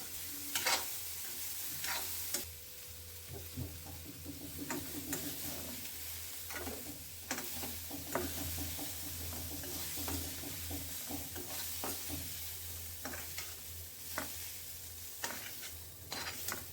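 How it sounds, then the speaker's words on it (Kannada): Tempering spices frying in oil in a kadai for ridge gourd palya, a quiet steady sizzle broken by frequent scraping stirs of a spoon against the pan, with no voices. "ಇದು ಕಡಾಂಗಿ ಒಳಗೆ ಒಗ್ಗರಣೆ ಹಾಕೊಂಡ್ಬಿಡ್ತೀನಿ ನೋಡ್ರಿ"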